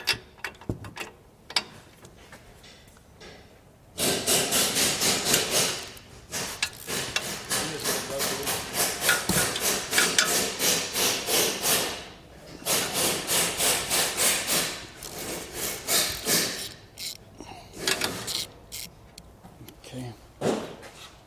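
Spindle nuts being loosened on a Ford Maverick during a lift kit installation: steady, rhythmic ratcheting and grinding of a tool working the nuts, heard close, with someone talking over parts of it.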